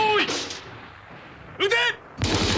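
Artillery guns fire in a 1987 anime, God Bless Dancougar: two sharp, loud booming blasts about a second apart, each with a crackling burst, after a short electronic tone.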